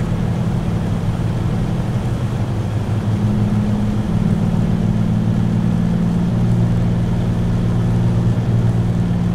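Twin radial engines of a Grumman Goose seaplane in Flight Simulator X rise steadily in a loud, continuous drone, the low harmonic hum climbing in pitch as the aircraft accelerates, with no voices over it.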